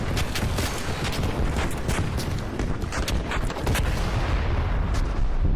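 Dense video game gunfire rattles in rapid, overlapping bursts, loud and close, with booming low-end impacts throughout and no clear pauses.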